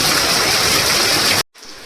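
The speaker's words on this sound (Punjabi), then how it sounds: "ਬਹੁਤ ਜ਼ਿਆਦਾ ਤੇਜ਼ ਆ ਮੀਂਹ" Heavy rain pours down as a dense, loud, steady hiss that cuts off abruptly near the end, leaving a faint quieter wash.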